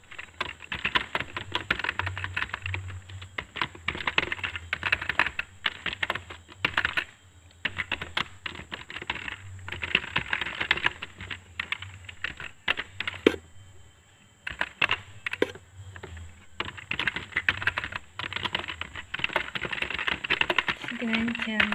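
Rapid, uneven keystrokes on a computer keyboard as a message is entered in Microsoft Excel, with clicks running in bursts and a few brief pauses in between.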